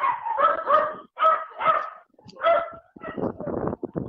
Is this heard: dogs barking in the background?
yes